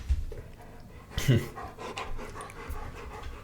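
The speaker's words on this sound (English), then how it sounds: "He's just freaking panting around the house right now." A pet dog pants rapidly close by indoors, a rhythmic series of breathy huffs with a louder burst near the start.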